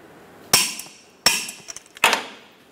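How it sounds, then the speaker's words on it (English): A torque wrench tightens the forward lower control arm bolts on a 2007-2012 Nissan Altima, giving three sharp, close metallic clicks spaced under a second apart, each with a brief ringing tail. "torque the front control arm bolt to 114 foot-pounds, torque the rear bolt to 114 foot-pounds"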